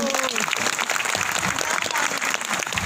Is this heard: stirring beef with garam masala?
no